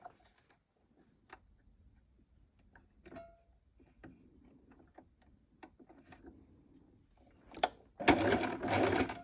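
A sewing machine stitches a folded strip of fabric at 1 cm, first with faint scattered clicks and handling noises, then a loud burst of fast stitching near the end.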